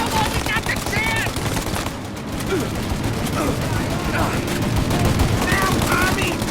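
Machine gun fire in Mafia: Definitive Edition, sustained rapid bursts crackling steadily throughout over a busy shootout soundscape.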